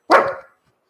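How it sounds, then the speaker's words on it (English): A dog gives a single short, sharp bark close by, then silence. "Again, dog will turn and bark."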